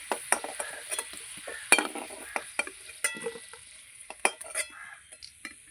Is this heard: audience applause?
no